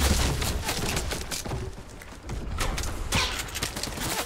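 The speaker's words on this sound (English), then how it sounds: "What was he shooting me with? Just a rifle." Rifle fire in the video game Fortnite, with rapid clustered shots and clattering bursts running dense and loud throughout.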